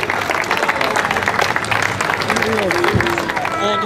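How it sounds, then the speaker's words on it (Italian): Spectators clap steadily at the Gambarie slalom car race as a driver finishes his run, the applause dense and continuous beneath a voice speaking over it. "Complimenti a Grandinetti, un applauso, dai!"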